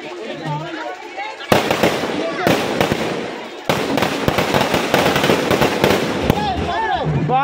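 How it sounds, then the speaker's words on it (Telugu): Firecrackers burst at a village goddess temple opening, loud dense volleys of sharp cracks and pops crackling continuously for several seconds, with a voice speaking before and after. "బాంబులు మోత మామూలుగా లేదు."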